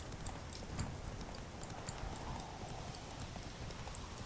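Horse hooves clip-clop steadily in the open-world fantasy video game The Witcher 3 as the horse is ridden along, with a few brief brighter clicks over a continuous outdoor background bed.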